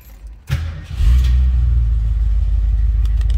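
A car engine cranks briefly, then catches and settles into a deep, loud, steady idle rumble close by.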